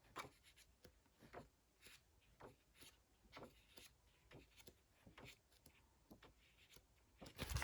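Pages of a colouring book being flipped: a series of soft, brief papery rustles spaced about every half second, quiet and close, ending in a louder rustle.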